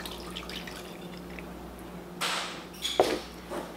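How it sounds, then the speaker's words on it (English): Water being poured into a bowl of sourdough starter, soft drips at first, then short splashy pours near the end, close by. "To the starter, we're going to go ahead and add 1 cup of water."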